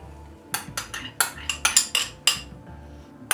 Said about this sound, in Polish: i wszystko oczywiście mieszamy